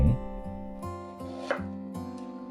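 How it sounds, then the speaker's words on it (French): A knife slicing fresh ginger into slices about 4 mm thick: roughly five evenly spaced, crisp cuts against a board, with steady background music. "Détaillez 4 à 5 tranches de gingembre de 4 mm d'épaisseur environ"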